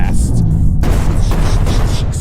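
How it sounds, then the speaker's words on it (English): Explosions boom repeatedly through an indie video game showcase trailer, loud and dense, with heavy low rumbling and overlapping blasts under a voice. "Explosions everywhere."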